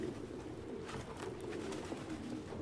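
Pigeons coo softly in the city soundscape of the video game Detroit: Become Human, a low murmuring burble that runs steadily beneath faint ambient noise, with no one talking.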